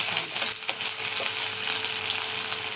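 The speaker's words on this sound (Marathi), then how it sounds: "मी तेल टाकले, तेलमध्ये थोडीशी मोहरी टाकून घेतलेली आहे आपले उसळ बनवण्यासाठी" Mustard seeds and cumin sizzle in hot oil as a Marathi usal, a sprouted mung bean curry, gets started, giving a steady close crackle and hiss with small pops throughout and no talk.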